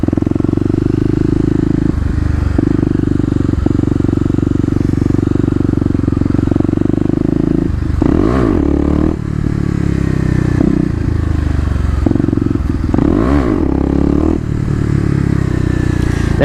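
A Kawasaki KLX250 dirt bike engine drones loud and close in second gear during wheelie practice in a mall parking lot, pitch sweeping up in two distinct revving surges amid steady running.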